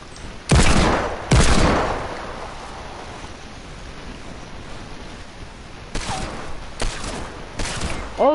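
Two loud, close shots from a pair of Desert Eagle pistols in the video game Blorplite come in quick succession early on, then three more shots follow later over a low ambient hiss.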